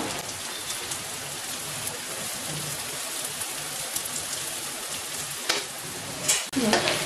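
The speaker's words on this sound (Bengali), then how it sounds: "আলুগুলো দিয়ে একটু ভাজা ভাজা করে নিচ্ছি" Potatoes frying in a home pan, a steady close sizzle like light rain with stirring clatters and a louder scrape toward the end.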